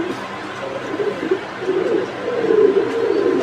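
Pigeons coo steadily at a pigeon farm in Tangail, a chorus of low, throaty calls that swells louder toward the end with no talking.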